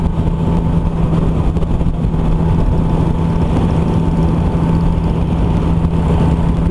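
An old Porsche engine runs in a steady, loud drone with a strong low hum that holds an even pitch throughout, with no revving and no voices.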